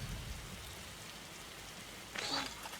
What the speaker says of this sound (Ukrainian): на дворі дощик